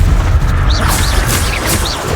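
The Incendio fire spell in Hogwarts Legacy erupts as a loud, dense whooshing blast with a deep rumbling roar and crackling bursts, sustained and close for about two seconds.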